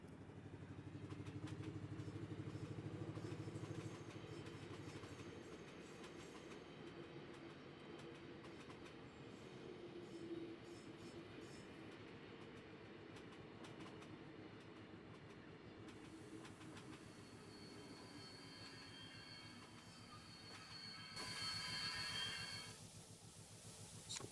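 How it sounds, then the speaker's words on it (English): A locomotive engine in the railway game Infinite Rails pulls away once its brakes release, giving a loud continuous rumble with clickety-clack wheel noise and some brake hiss throughout, and no one talking. "With this engine, you really do need to wait till the brakes are all the way released before it moves."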